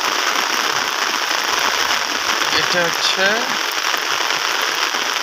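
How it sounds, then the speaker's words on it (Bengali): Heavy morning rain pours onto a road in a dense, unbroken hiss that stays loud throughout, with a brief spoken phrase near the middle. "রাস্তার মধ্যে বৃষ্টি বেশি হচ্ছে, বা বোঝা যায় যে কত বৃষ্টি হচ্ছে"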